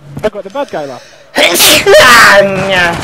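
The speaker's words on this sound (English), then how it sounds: "That was a sneeze for anyone wondering." A single loud, sharp sneeze bursts close to the microphone about halfway through, following a few short spoken words and then mixing with ongoing talk.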